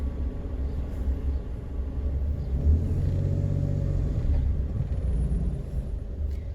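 Low, steady engine rumble from inside a car crawling through heavy traffic in a jam, a continuous droning hum with no voices.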